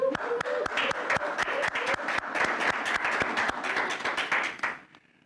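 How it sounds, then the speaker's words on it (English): A church audience greets a returning reverend with a round of applause, dense sustained clapping with sharp individual claps standing out, fairly close, that tapers off and stops near the end. "Let's welcome Reverend Barbara back with a round of applause."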